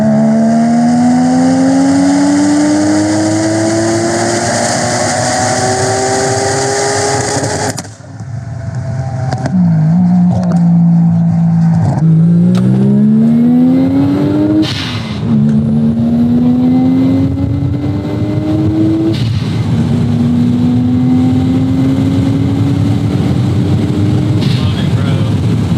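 A twin-turbo three-rotor Mazda RX-7 rotary engine held at very high revs near 9,000 RPM, a loud sustained droning whine with pitch shifts as the revs dip and climb, with voices talking underneath.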